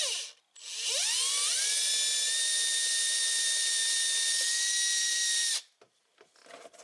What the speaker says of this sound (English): now we're going to drill the hole for the switch panel here. We're going to go through with a pilot hole